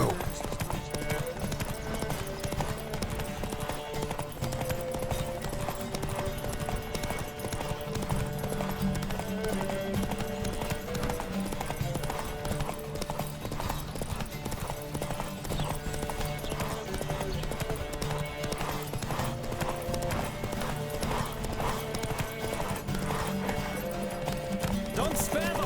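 Horse hooves gallop in a steady, rapid clip-clop through a race in The Witcher 3: Wild Hunt, loud and continuous over game music and ambient sound, with occasional voices.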